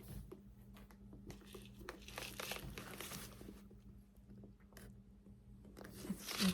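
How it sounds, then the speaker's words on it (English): Stuffing paper crinkles and rustles as it is pulled out of a Coach Borough bowling ball bag, a steady run of close, crackly crumpling with sharper crunches throughout. "Take out all this paper."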